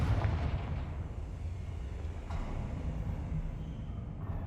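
A Confringo fire spell blasts in a Hogwarts-style fantasy video game, a loud booming burst with low rumbling that rolls on steadily over several seconds, no voices.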